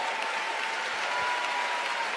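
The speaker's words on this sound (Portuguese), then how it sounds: "Pode aplaudir a Jesus" Church audience applauding during a sermon at a Christian gathering: a continuous, even wash of many hands clapping, sustained at steady volume without breaks.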